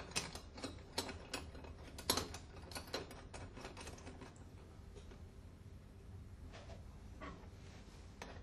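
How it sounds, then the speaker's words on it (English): Someone tightens the upper clamp on an Alfa Laval SRC single-seat valve, making a series of sharp metallic clicks and ratcheting taps, quicker at first and sparser later, heard close up over a quiet background. "Fit the upper clamp and tighten."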